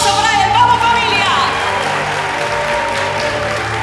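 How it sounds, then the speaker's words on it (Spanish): Loud applause and cheering from a Spanish-speaking audience welcoming a worship music performer at a gospel talent show finale, with whoops and music tones early on. "El aplauso para él."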